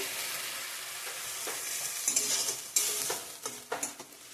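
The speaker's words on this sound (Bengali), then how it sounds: "ভালো করে কষিয়ে নেব মশলাটা লবণ দিয়ে দিলাম" Spice masala with salt and tomato paste is stir-fried in a pan for a vegetarian potato, cauliflower and paneer curry. Scraping stirs and a steady sizzle run throughout, growing busier with sharp utensil knocks toward the end.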